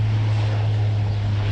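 Steady low propeller drone of a military Hercules transport aircraft idling on the tarmac at Hamilton, a continuous loud hum with no talk over it.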